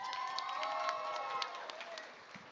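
A book-event audience claps and cheers together, a busy spread of hand claps and voices at moderate distance, fading somewhat toward the end.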